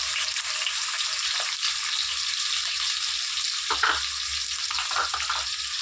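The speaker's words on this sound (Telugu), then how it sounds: "మూడు ఉల్లిగట్లు వేసి ఫ్రై చేసుకుంటున్నానండి" Three onions fry in hot oil in a kadai for curry leaf chicken, giving a loud, continuous sizzle with occasional stirring scrapes and no talking.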